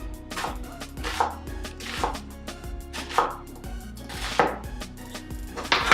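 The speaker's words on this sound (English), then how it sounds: "And again with the other one time down the middle and just slice it up." A knife slices through short ribs on a cutting board in a home kitchen, with repeated rhythmic chopping strokes close up over steady background music.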